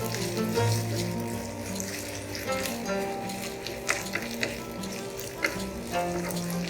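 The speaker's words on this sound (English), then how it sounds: "Let's go in with the bread mixture right now. Add into the pan." Bread mixture frying in a pan as it is added little by little and stirred, a steady sizzle running throughout with soft scraping and a few sharp clinks near the end.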